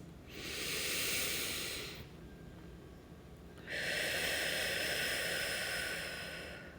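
A person takes slow, deep breaths close by. Two long, airy rushes of breath are separated by a quiet pause, with no talking.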